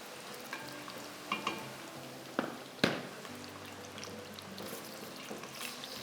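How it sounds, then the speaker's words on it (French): Lamb pieces sizzling in a pot, a continuous close frying hiss with occasional stirring scrapes and a sharp clatter in the middle. "Je vois que ça mijote déjà."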